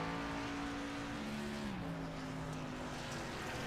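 Racing truck on a dirt track, engine droning steadily at high revs, then dropping in pitch midway as the driver lifts before pulling on again, loud and without talk.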